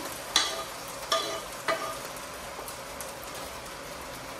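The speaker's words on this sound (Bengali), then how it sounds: "এখন আস্তে আস্তে আমি মিটটা দিলাম" Meat goes into a pot of salted pilau base and gets stirred: three sharp scraping strokes over a steady close sizzle, then continued soft frying.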